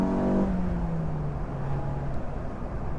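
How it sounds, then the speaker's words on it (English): A 1994 Mazda Miata engine drones low and steady with a throaty intake rumble under acceleration, its pitch dipping slightly as it pulls, no voices over it. "when I get on it, you can hear that intake noise"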